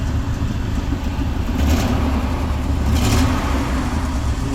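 Chevy GMC Vortec engine running close by with a steady mid-pitched hum, briefly swelling twice as the throttle is blipped, without any talk.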